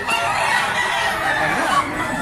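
Chickens clucking and squawking nearby at a poultry sale, over a noisy background, with a voice faintly underneath.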